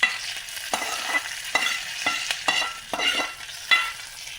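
Fried garlic is stirred into manathakkali greens in a pan, making a soft sizzle broken by repeated scraping stirs at an irregular rhythm, close and fairly quiet with no voices.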